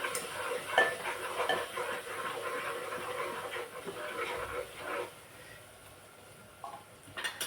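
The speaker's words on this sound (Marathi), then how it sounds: "हे दोन छोटे चम्मच धना पावडर हे पण छान असं परतून घ्यायचं" Coriander powder being sautéed in a pan for spicy Khandeshi dal fry, a soft steady sizzle with scraping stirs and light clinks of a spoon against the pan, fading quieter toward the end.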